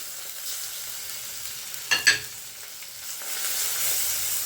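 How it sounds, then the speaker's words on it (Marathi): Masala paste for a sour-spicy fish curry sizzles in a pan, with a steady hiss of frying and a couple of sharp stirring scrapes near the middle, close and moderately quiet with no talk. "ह्याला छान आपल्याला परतून घ्यायचं आहे"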